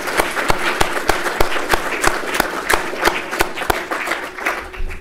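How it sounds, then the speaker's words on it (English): An audience at a keynote address gives a round of applause, with scattered individual claps rising and falling over a few seconds indoors. "If we could just give them one last round of applause."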